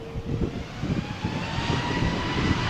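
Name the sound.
aircraft taking off at Malaga Airport runway 13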